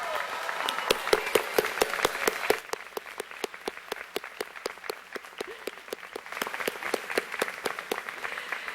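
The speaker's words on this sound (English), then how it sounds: "thank you so much for giving these folks a well-deserved round of applause" Steady applause from a crowd, many hands clapping continuously for several seconds at a moderate level, fading slightly midway then picking back up.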